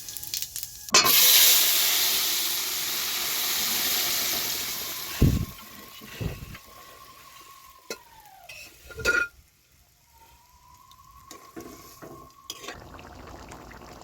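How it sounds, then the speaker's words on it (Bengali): Loud, steady sizzling of cumin and five-spice seeds hitting hot mustard oil in a pan for several seconds, then fading, followed by a few sharp metal clinks and scrapes of a spoon in the pan. "তেলটা গরম হয়ে আসছে, জিরা পাঁচফোড়ন সব দিচ্ছি।"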